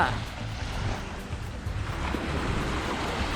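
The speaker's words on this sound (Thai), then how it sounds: "ฟังเสียงคลื่นหน่อยทุกคน" Morning surf on a sandy beach at Pattaya, a continuous wash of breaking waves with gusty wind buffeting the microphone, fairly close and steady.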